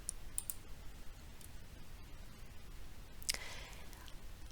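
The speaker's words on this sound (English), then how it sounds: "you'll want to click on the Reports tab in the left-hand side" A single sharp mouse click stands out near the middle, with a few faint ticks earlier, over a quiet background hiss as the Reports tab is selected in a software menu.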